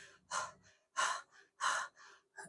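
A voice imitates panting after running: four sharp, breathy gasps in a quick uneven rhythm, close and fairly loud, with short silent gaps between them and no talking.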